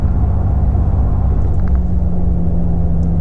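Toyota Tacoma pickup cruising in sixth gear in sport mode, a loud, steady low engine and road rumble from inside the cab with a faint tonal drone, no voices.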